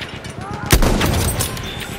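Gunfire bursts in Battlefield 1 infantry combat on Cape Helles, with a loud close shot or boom cutting through a continuous rattle of rapid fire and a voice shouting over the battle noise.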